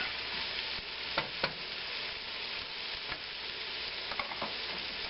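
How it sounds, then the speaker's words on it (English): Mushrooms soften as they fry in a pan, giving a steady, quiet sizzle broken by a few brief stirring scrapes and taps. "We'll let that cook a little bit here, just to kind of soften the mushrooms"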